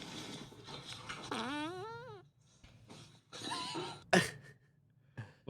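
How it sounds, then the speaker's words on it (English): A fart sound effect replayed from the film Airheads, a drawn-out, wavering tone among short bursts of other noises, moderately loud with brief gaps between sounds. "You got to hear the fart again."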